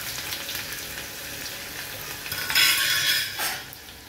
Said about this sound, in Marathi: कांदा चांगला गुलाबी होईपर्यंत परतून घेऊया आपण